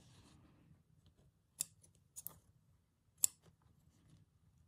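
Sharp scissors trim loose threads on a sewn Japanese rice bag in a craft room, giving three crisp, close snips spaced over a few seconds against a quiet, low background hum.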